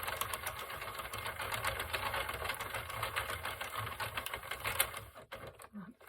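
Circular knitting machine cranked through a few rows of waste yarn, giving a steady mechanical clatter of rapid ticks that runs close and continuous before easing off near the end.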